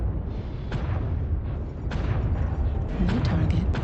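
Artillery strike explosions in MechWarrior Online, heard as a continuous dense rumble of booms with several sharp bursts layered throughout, loud and close amid game noise.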